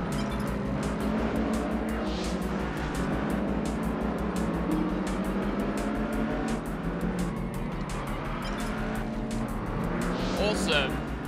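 A Nissan car in the PS2 racing game Test Drive Unlimited drives with a continuous engine drone, occasional tire squeals and passing traffic, while a person talks over it.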